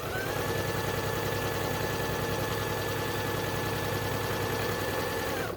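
A sewing machine running steadily while chain piecing quilt blocks, a continuous close mechanical whir with a fast, even stitching rhythm, constant in level throughout and with no one talking.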